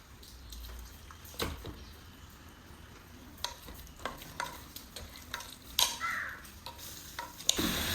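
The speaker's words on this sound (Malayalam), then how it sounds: "ഇനി ഇത് കുറച്ച് ഹൈ ഫ്ലെയിമിലിട്ട് കുറച്ച് നേരം വഴറ്റിയെടുക്കാം." Masala-marinated chicken with ginger and garlic sautéing over a high flame, with a soft steady sizzle broken by sharp intermittent stirring scrapes and clanks of a spoon against the pan, close and fairly quiet, no talking.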